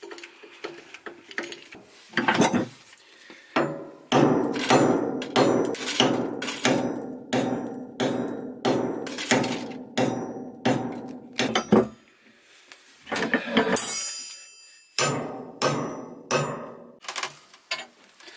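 Steady series of sharp hammer blows on wood during a sailboat mast step repair, roughly two per second, with brief pauses between bursts; close and fairly loud, no talking.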